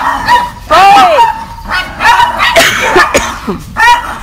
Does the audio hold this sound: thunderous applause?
no